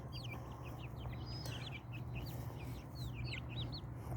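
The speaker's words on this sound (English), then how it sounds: "look at these chickens, what they do. They're scratching" A small flock of chickens cluck in short, soft, repeated calls over a faint steady hum, quiet and slightly distant.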